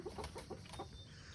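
Farm chickens let out of their coop on a sunny morning cluck in a short, rhythmic series of soft calls, fairly quiet and fairly close, with no talking.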